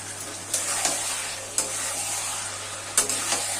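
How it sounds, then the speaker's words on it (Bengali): Chicken kasha fries in a pan in a steady, close sizzle as slit green chillies drop in, with a few soft clacks from stirring breaking through the hiss. "এখন আমি এই আট দশটা কাঁচা লঙ্কা ফেড়ে রেখেছিলাম এগুলো দিয়ে দিচ্ছি"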